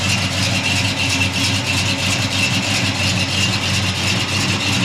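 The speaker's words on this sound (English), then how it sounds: "396 fires right up." A big-block 396 cubic inch V8 in a 1967 Chevrolet Chevelle convertible idles steadily and loudly up close, with a deep, even rumbling burble that holds throughout without talk.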